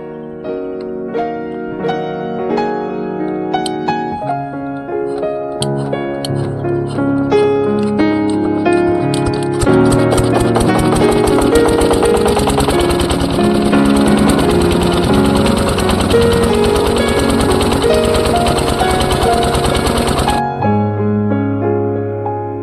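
An irrigation pump engine in a paddy field starts, runs rough and then rises to a loud, steady chugging roar before cutting out near the end, heard close with no talk.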